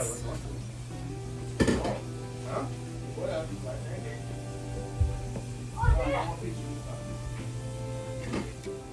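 Steady low hum of wild chicken mushrooms cooking in a pan with faint sizzling, punctuated by occasional clinks of utensils against cookware and brief voices nearby.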